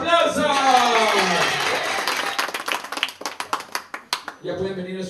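Audience applause at a lively party celebration after chanted cheers, with loud vocal cheering first giving way to scattered, uneven claps that thin out toward the end before talking resumes.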